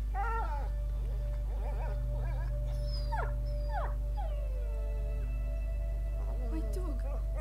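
A dog whimpers and whines in A Plague Tale: Innocence, a series of high, wavering yelps and cries over a constant low hum of game ambience.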